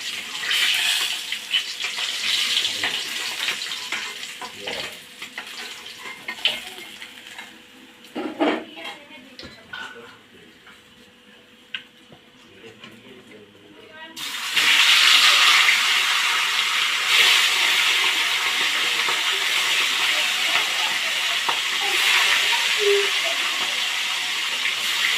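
Pieces of silver carp fry in a pan. Faint kitchen clatter comes first, then a loud, steady sizzling hiss fills the second half.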